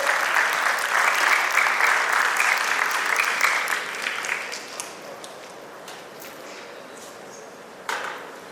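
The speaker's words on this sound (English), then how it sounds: "Please give him a big round of applause." Audience applause fills a hall after a speaker introduces a retired army major general at a talk, a dense clapping crowd that is loud at first, then gradually thins and fades, with a brief final burst near the end.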